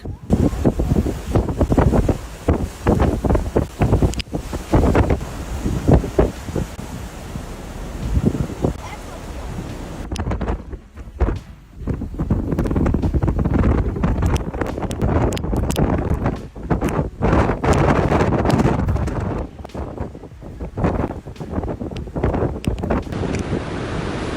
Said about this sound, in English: Storm winds whip white sea foam across a Queensland beach